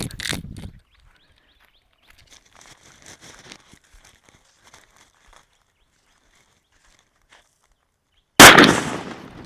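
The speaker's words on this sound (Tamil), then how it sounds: "ஓகே அடுத்த வெடி வச்சு வெடிச்சு பார்ப்போம்" A sharp Indian country firecracker (nattu vedi) bang bursts out near the end after quiet crackling, with another loud pop at the very start.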